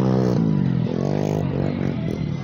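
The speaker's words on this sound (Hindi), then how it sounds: "बाइक रैली चल रही है" Motorcycles in a bike rally on the desert dunes of Rohi Cholistan, a loud, close engine drone with shifting revs and rattling clatter throughout.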